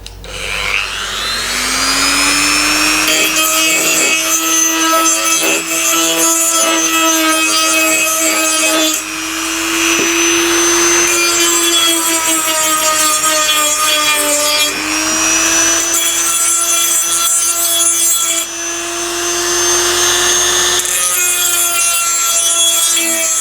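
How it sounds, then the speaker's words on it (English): A Dremel rotary tool grinds and cleans the inside surface of a Nissan Navara EGR cooler, a loud, close, high-pitched whine that scrapes continuously with brief dips in pitch as it bites into the metal. "So I'll just hit that with a Dremel."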